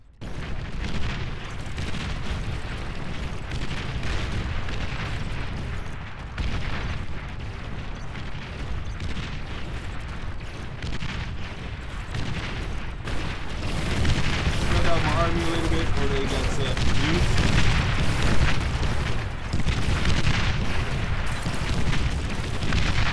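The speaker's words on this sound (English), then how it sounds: "I saw some heavy explosion." Heavy explosions in the strategy video game Beyond All Reason roll on as continuous deep booms and rumbling blasts, loud throughout and swelling further in the second half.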